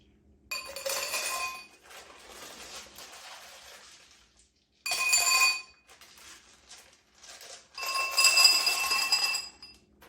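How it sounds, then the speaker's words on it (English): Fake ice cubes clatter and clink into a glass during a product photo shoot, three separate bright bursts of rattling, each with a short settling jingle, close and fairly loud with quiet gaps between. "I'm gonna add some of these fake ice cubes into it."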